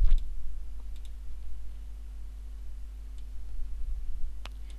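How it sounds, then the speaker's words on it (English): A computer mouse gives a few sparse, faint clicks, widely spaced over a steady low electrical hum, with nobody speaking. "Just click OK. Click on this."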